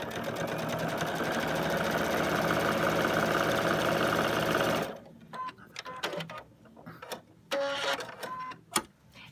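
A sewing machine stitches fabric in a steady, loud mechanical whir for about five seconds, then stops, leaving scattered clicks and handling noises.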